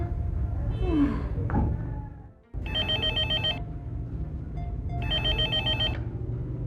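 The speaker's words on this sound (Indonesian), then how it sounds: "ada telepon dari Papi" A telephone rings in two separate bursts with a pause between them, loud and close, over a low background hum.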